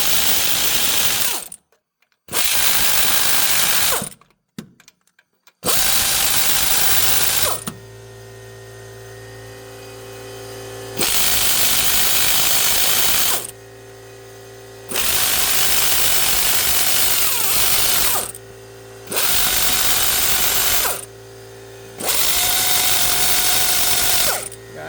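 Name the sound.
power driver loosening bolts on a Ford F-150 engine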